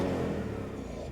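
A BMW E90 M3's V8 exhaust revs loudly and close up, a sustained deep engine roar with no talking.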